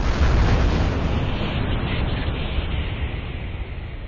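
A sustained deep rumbling roar for a star exploding, loud throughout and slowly fading, with no voices.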